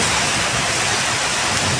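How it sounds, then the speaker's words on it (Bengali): Heavy rain pours over a city during a thunderstorm, a dense, steady hiss with no breaks or voices. "দেখতে পাচ্ছেন বৃষ্টি হচ্ছে"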